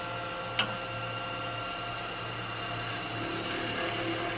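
A wood lathe makes the final finishing cut on a snowman lidded gift box blank: a steady, fairly quiet machine hum with a faint scraping tone, and one brief tick near the start.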